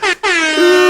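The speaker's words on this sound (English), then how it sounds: "air horns for you" Loud blaring air horn sound effect, two close blasts with a brief gap between them, the second one sustained.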